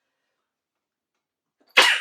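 A single sharp human sneeze bursts out near the end after a long stretch of silence, close and loud.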